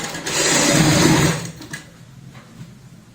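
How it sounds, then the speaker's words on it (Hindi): A sewing machine stitching piping onto a travel bag made from old jeans, a loud steady mechanical whir for just over a second that then stops, leaving quiet handling noise. "अब हम यहाँ पे इसके साथ साथ में सिलाई लगाएंगे।"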